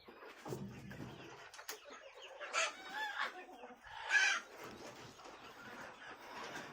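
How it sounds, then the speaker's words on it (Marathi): Chickens on a goat farm cluck repeatedly at close range, with scattered louder squawks and a rooster-like call rising briefly from the flock. "बघा मित्रांनो कोंबड्या संपूर्ण कोंबड्या आहे"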